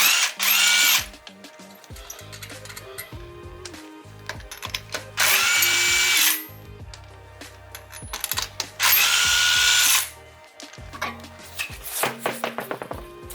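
Power tool on a TC removing wheel nuts for a CV axle job, three loud whirring bursts of about a second each separated by pauses, followed by softer rattling clicks.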